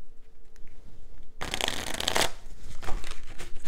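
A deck of oracle cards is handled close up, with a sudden burst of riffling and slapping as the cards spill and fall, followed by lighter rustling.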